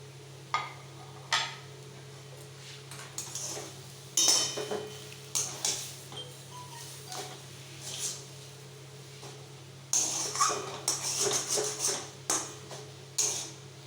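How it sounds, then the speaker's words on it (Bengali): A spatula or spoon stirring egg devil filling with chopped coriander in a pan, giving intermittent metallic scrapes and clinks in short bursts with pauses between, fairly close over a faint steady hum. "এবার আমি এর ওপর একটু ধনেপাতা কুচি ছড়িয়ে নাড়াচাড়া করে পুরটা নামিয়ে নিয়ে ঠান্ডা হতে দেবো"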